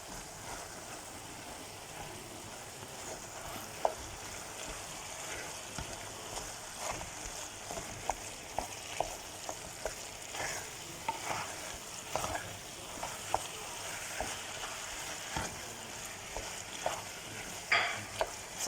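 Minced meat sauce with tomato paste fries in a pan for lasagna, a steady sizzle broken by scattered scraping clicks of a spoon stirring, close and moderately loud throughout with no talking.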